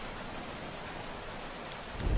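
Steady broadband rain from a thunderstorm in The Walking Dead video game, a continuous hiss throughout with a low rumble of thunder swelling near the end, no voices.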